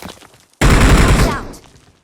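Gunfire in a video game breaks out as one loud, sustained burst of rapid shots lasting under a second, cutting in sharply after a quiet gap and fading off.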